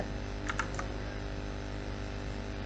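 A few quick keystrokes on a computer keyboard entering Ctrl Z, a short cluster of light clicks over a steady low hum, with no speech.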